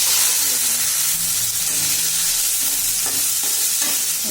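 Bengali five-spice seeds fry in hot oil in a wok, giving a loud, steady sizzling hiss with a few faint stirring knocks.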